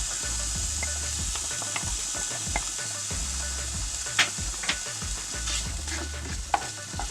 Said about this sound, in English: the butter is hot enough, so I'm gonna add some garlic. Crushed garlic.